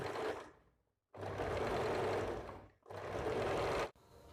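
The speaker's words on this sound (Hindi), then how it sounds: "पहला सिलाई देने के बाद आपको दूसरा और एक सिलाई कर लेना है नीचे की तरफ से" A sewing machine stitching a blouse runs in two long bursts of rapid, steady whirring, separated by short pauses, close and clear with no talk.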